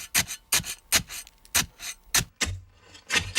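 Repeated rubbing strokes of a chamois cloth against a surface for foley, about a dozen quick swipes in an uneven rhythm, close and fairly quiet.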